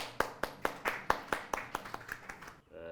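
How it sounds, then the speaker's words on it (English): Sharp, evenly spaced hand claps from a seminar audience, about a dozen in a steady rhythm, fading at the end as a tone begins. "Let's give him a round of applause."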